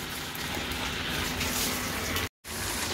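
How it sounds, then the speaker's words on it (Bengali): Chili paste mixture is poured into a pan of marinated meat, making a steady, wet gushing pour that runs continuously for a couple of seconds before a brief abrupt cutoff. "এখন এটা ঢেলে দেব"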